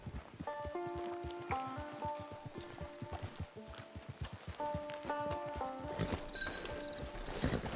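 Horse hooves clip-clop steadily on the ground in the Red Dead Online video game, a close, even walking rhythm that runs throughout, joined by a brief whinny and light rustling.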